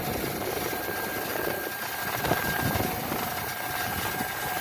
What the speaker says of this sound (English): Those bearings in that compressor sound funny.